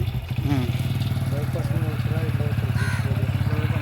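A motorcycle engine putters steadily nearby, with voices talking over the continuous low rumble.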